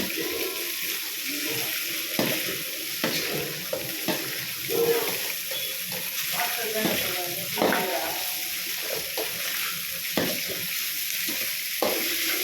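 Onions and green chillies frying in a pan, a soft wet crackle with intermittent stirring clatter and watery sounds, fairly close, with faint background voices in places.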